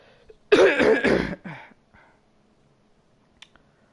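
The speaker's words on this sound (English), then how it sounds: "sorry about the cough" A motorsport commentator coughs in one loud, close burst of several rapid hacks, followed by a smaller throat-clearing cough, then near silence with a faint click.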